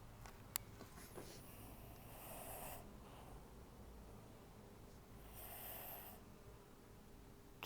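Faint, close snoring with two breathy swells of air, soft and low under a quiet room hiss.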